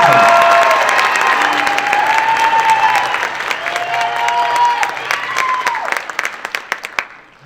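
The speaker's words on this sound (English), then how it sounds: "Give me another round of applause." Audience applause and cheering for a high school band at its concert: loud, dense clapping with whoops and voices rising through the crowd, gradually thinning to a few scattered claps before stopping abruptly.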